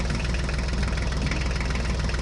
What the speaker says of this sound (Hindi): फोर्ड ट्रैक्टर बाहर आ गया।